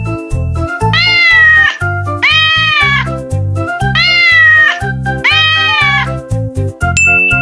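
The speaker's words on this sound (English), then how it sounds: "Cat," A domestic cat meows four times in a steady, evenly spaced rhythm, each meow loud and close, over a bouncy musical backing.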